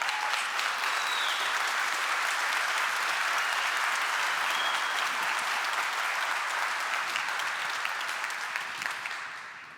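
A crowd claps continuously for engineering teams at an aerospace company hangar presentation, dense steady applause holding level for several seconds before tapering at the end.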